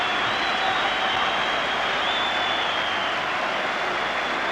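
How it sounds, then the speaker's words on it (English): Football crowd applauding as Hibs player John Robertson departs during the Hibs v Hearts match, a steady, dense wash of distant clapping and crowd noise holding evenly throughout with no pauses. "the applause you hear is for the departing figure of John Robertson"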